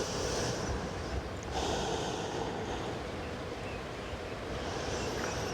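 Slow, deep breaths during a yoga low back flow, with long airy inhales and exhales rising and falling close to the mic and no talk.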